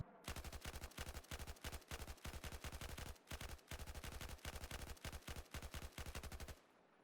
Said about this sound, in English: now I'm going to show you what effect burst fire has